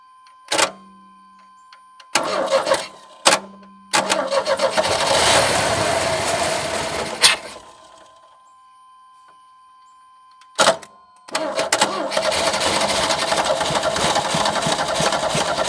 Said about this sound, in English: It does run.